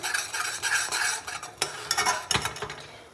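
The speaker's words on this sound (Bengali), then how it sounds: "চিনি দিয়ে দিয়েছি দিচ্ছি কফিটা কফিটা দিয়ে মিশিয়ে নিতে হবে" A spoon scrapes and clinks in a pot while coffee is stirred into boiled milk with sugar, in quick irregular strokes with a few sharper taps against the metal.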